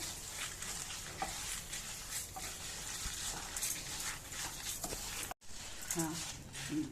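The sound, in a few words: lentils, cumin, chillies and asafoetida being stirred and roasted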